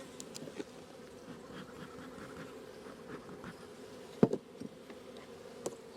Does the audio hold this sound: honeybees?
yes